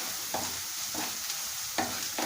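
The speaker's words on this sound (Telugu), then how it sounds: "ఇలాగా ఒకసారి మంచిగా ఫ్రై చేసుకున్నాక ఇప్పుడు ఇది వేగిపోయిందండి, అల్లం పేస్ట్" Ginger paste frying in a pan for a Telugu spinach, sorrel and paneer curry: a low, quiet sizzle broken by a few distinct stirring scrapes spaced through the clip, with no voices.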